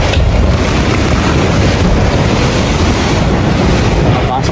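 Strong wind roars and buffets the microphone in a constant, heavy rush, loud and unbroken throughout.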